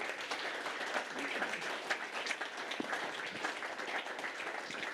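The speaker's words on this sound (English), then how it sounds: "please, a round of applause" An audience applauds a panel at a commemorative event, with a steady, fairly faint wash of clapping from a crowd heard from some distance and no talk over it.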